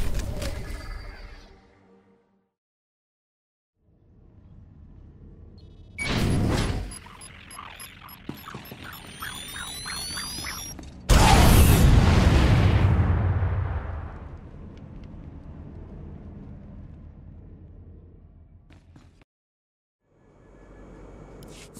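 A detonator blast in the video game Star Wars: The Old Republic, a sudden loud deep boom that rolls into a long rumbling decay, preceded by a sharper burst and surrounding game effects.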